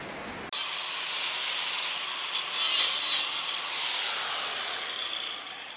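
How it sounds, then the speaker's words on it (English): Metal spoons and forks are cut into small wing and beak pieces with a power tool, a continuous harsh grinding hiss that starts abruptly after a brief pause and holds steady, swelling slightly midway. "Now we got to cut the little wings, and then we got to cut the beak for it."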